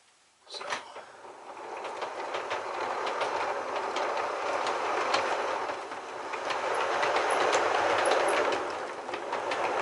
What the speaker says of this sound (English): it even gives that really good sound of the clickety-clack of the wheels like you would hear on a real railroad